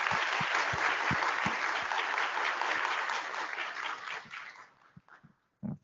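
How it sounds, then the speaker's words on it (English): Conference attendees at an IETF Internet Architecture Board open meeting give a round of applause for a speaker, dense steady clapping that thins out and breaks into a few scattered last claps near the end. "Can I ask everyone to join me in a round of applause for Dr."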